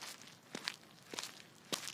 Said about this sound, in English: Then footsteps, deliberate and unhurried, coming up the gravel path from the garden she couldn't see.